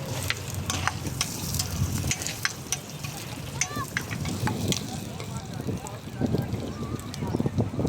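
Food frying in a pan at a campsite: continuous sizzle with scattered pops and utensil scrapes, while someone talks close by throughout.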